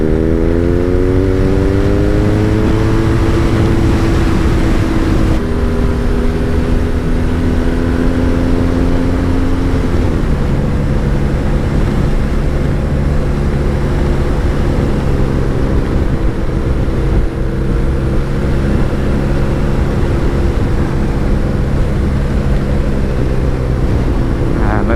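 BMW Urban G/S motorcycle riding along with a loud, constant engine drone and tyre roar close up, the engine pitch stepping down through gear changes.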